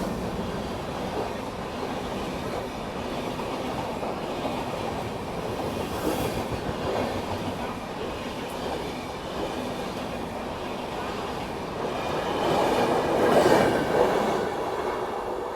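Steady rumble and rattle of the August Kranti Rajdhani Express running, heard from inside a 3 AC coach, with continuous wheel clatter and a louder surge near the end.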